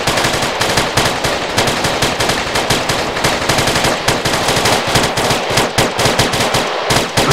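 Machine gun fire in an Arma 3 co-op battle, a dense, loud, steady stream of rapid shots that continues almost unbroken for several seconds without talk.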